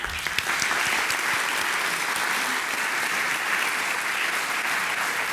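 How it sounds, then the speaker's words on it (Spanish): Steady, loud applause from a seated audience at a collegiate festivity and dinner following a speech, a dense continuous wash of clapping that holds evenly throughout. "gracias por los aplausos"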